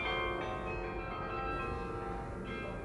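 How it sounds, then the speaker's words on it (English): Church bells ringing in the Netherlands, a steady sustained peal of overlapping metallic tones, fairly faint and continuous throughout with no voices. "these bells, when I tell y'all these bells were ringing, it was like a good 20 minutes"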